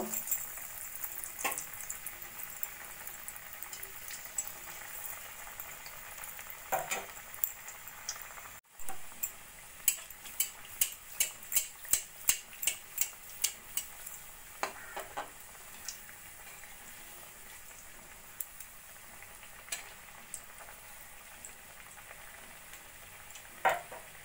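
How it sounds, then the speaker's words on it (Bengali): Breadcrumb-coated egg devils fry in hot oil in a kadai, giving a soft, continuous sizzle. Bursts of sharp crackling pops rise above it now and then, heard faint and fairly close. "এদিকে কড়াইতে তেল দিয়ে দিয়েছি, তেলটাও গরম হয়ে গেছে। এবার ডিমের ডেভিলগুলো আমি একটা একটা করে ভেজে নেব।"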